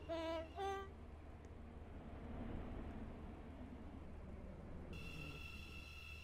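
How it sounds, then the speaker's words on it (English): A train pulls into a platform at Leighton City station in Roblox Stepford County Railway, a faint low rumble of rolling stock building and easing, with chime tones at the start and a sustained tonal sound near the end. "The train now approaching Platform 4 terminates here."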